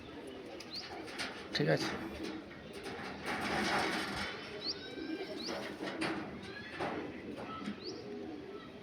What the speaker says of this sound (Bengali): এটা আমার বিডার পায়রা।